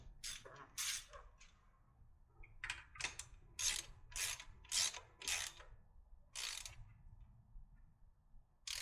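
A hand ratchet tightens the air cleaner nuts on a 1968 Corvette, with about ten short, quiet clicking bursts in an irregular rhythm, close by and without talk.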